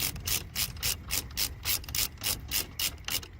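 A hand ratchet tightens bolts on the front brake parts of a 1995–2007 Ford Econoline van, clicking in about a dozen quick, evenly spaced bursts, loud and close with no talking.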